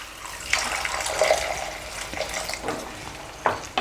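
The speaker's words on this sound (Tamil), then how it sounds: "கொஞ்சமாக தண்ணி சேர்த்துக்கலாம்." A little water poured into a pan of sautéing ivy gourd seasoned with salt and turmeric splashes and hisses in a few close bursts, with a spoon scraping among the splashes.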